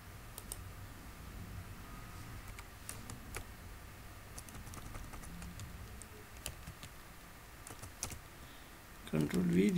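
Computer keyboard typing under ongoing talk, with scattered crisp key taps and clicks over a soft background, like repeated Ctrl+V paste presses, ending in a louder handling thump.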